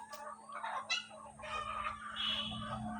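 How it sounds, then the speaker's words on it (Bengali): Tiger breed parent-stock chickens on a farm cluck softly at a moderate distance, with a steady low hum running underneath the faint calls. "এই যে আমার প্যারেন্টসের মুরগিগুলো দেখুন"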